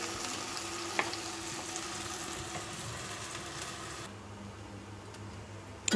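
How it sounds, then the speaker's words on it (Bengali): Lentil fritters (dal bora) sizzle as they fry in hot oil, a steady close crackle and hiss running throughout, easing slightly toward the end with a faint clink. "আমি ওই সাইডে ডালের বড়াগুলি ভেজে নিচ্ছি"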